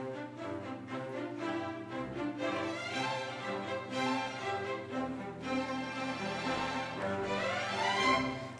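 An orchestra's string section plays the round Frère Jacques at a quick tempo with short, detached staccato notes, full and steady throughout, with no voices.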